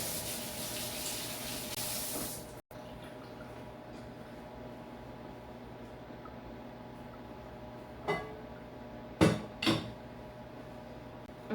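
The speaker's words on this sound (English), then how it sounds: "Rinse my hands off." Kitchen tap running as hands are rinsed, a steady water stream that cuts off abruptly, followed by a quiet room and a few soft clunks.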